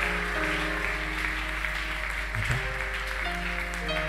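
A church congregation at a final night of prayer claps for the Lord in sustained, even applause, with held musical tones ringing beneath it throughout.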